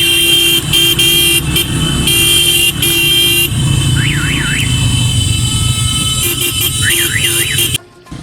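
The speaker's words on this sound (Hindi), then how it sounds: "हमने हॉर्न्स बजा बजा कर खुशी का इजहार किया" Motorbike horns honk repeatedly in celebration, loud close bursts of blaring tones with warbling electronic horn sweeps over running engines, continuing for several seconds before cutting off.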